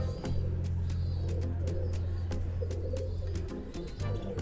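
Sialkoti pigeons cooing softly in a loft, low repeated coos with occasional wing flutters and clicks, fairly close and steady.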